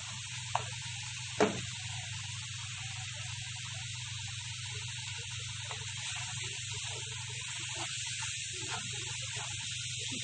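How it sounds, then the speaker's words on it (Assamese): Spices, garlic, ginger and onion fry in a pan for an Assamese brinjal and fish curry, giving a steady, close sizzling hiss throughout with a brief sharp clink near the start. "সেইকাৰণে অলপ ভাজি ল'ব লাগিব।"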